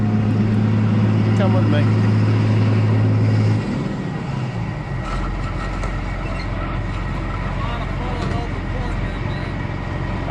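A combine harvester in a farm field works on its last field, its engine droning loud and steady, then the tone shifts and rumbles lower as the machine gets moving, with people talking nearby.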